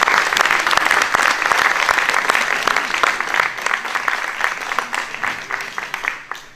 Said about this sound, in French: vous avez applaudi pour les cadeaux